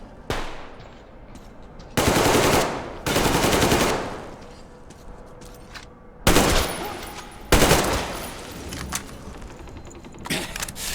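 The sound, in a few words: gunfire in a shootout, video game Metro Exodus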